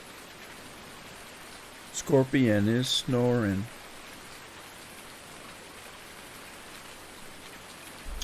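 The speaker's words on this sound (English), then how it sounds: "It's raining, it's pouring." Steady rain patters without a break in Farming Simulator 19 on the Red River Valley map, an even soft hiss throughout, with a voice speaking briefly near the middle.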